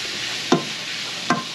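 Steak strips dropped into a hot pan for garlic beef and broccoli lo mein, giving a steady close sizzle with two sharp bursts as pieces land, no talk.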